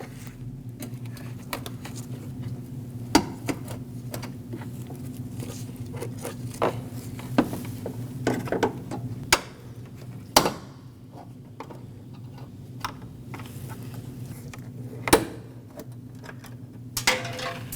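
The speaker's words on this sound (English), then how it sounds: "we have 3 push clips, one in the middle, one on the right, and one on the left that we need to pop out with a trim tool" Plastic push clips are pried out of a 2005-2021 Nissan Frontier bumper cover with a trim tool, giving scattered sharp clicks and pops over a steady low hum, with faint scraping between.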